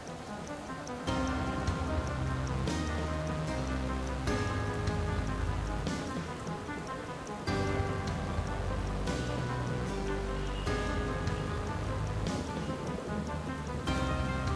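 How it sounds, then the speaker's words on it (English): Steady rain patters over a low, continuous backdrop of layered music, with the downpour holding constant throughout. "Raining again."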